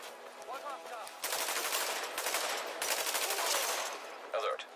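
Automatic gunfire in Tom Clancy's The Division, two sustained rapid bursts of machine-gun fire, loud and close, separated by a brief gap, with faint voice chatter before and after.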